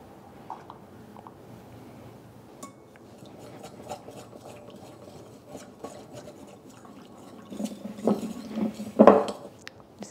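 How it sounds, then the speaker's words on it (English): A spoon stirs a sauce of sherry, soy sauce and cornstarch in a bowl, making soft, faint scraping and rubbing at first, then a few louder clinks and scrapes against the bowl toward the end. "Just give that a quick stir."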